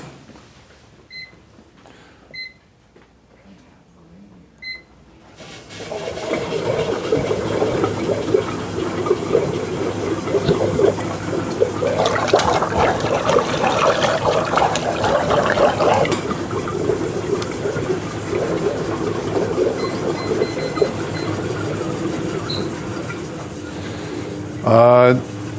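Italian ice maker full of sugar water, chocolate chips and brownies switches on and runs with a steady whirring, churning hum that continues unbroken, with people talking over it.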